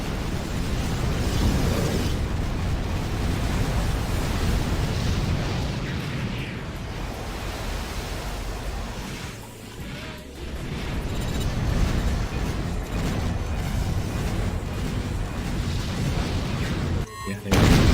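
Missile explosions in the video game Armored Core for Answer, a dense, continuous roar of booms and blasts rumbling for many seconds with a brief dip midway, loud throughout.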